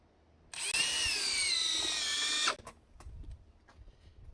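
High-torque power drill set to speed 3 drives a screw into junk wood, a loud, rising whine lasting about two seconds before cutting off, followed by faint handling clicks.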